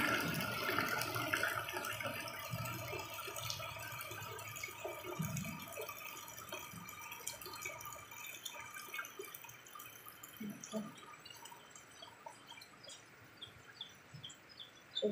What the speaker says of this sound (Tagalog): Ganyan kalakas ang tubig sa kanal namin.